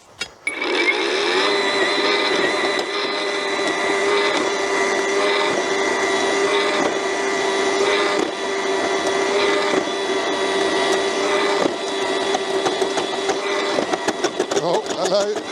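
An EGO PHA7400 battery earth auger bores into the ground with a loud, continuous motor drone and grinding, broken by small bumps and rattles near the end, while a voice briefly speaks over it.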